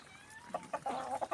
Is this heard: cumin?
no